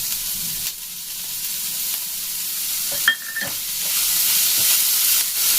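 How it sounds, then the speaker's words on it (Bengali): Chopped garlic tipped into onions already frying in oil, a steady close sizzle with a brief scrape and clatter near the middle as it goes in, no voices. "পেঁয়াজগুলো যেই দেখুন ভাজা হয়ে গেছে, এখন আমি দিয়ে দেবো কুচিয়ে রাখা রসুন"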